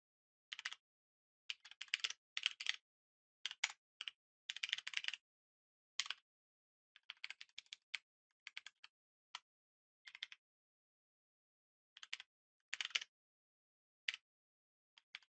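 Quiet bursts of typing on a computer keyboard, short clusters of crisp key clicks broken by pauses, close and soft with no voices.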